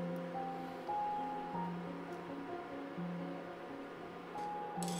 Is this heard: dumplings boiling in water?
yes